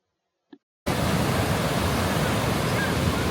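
Surf washing onto the beach at Manly in Sydney, a loud continuous broadband roar of waves that starts abruptly after a brief silence and a small knock, with no voices.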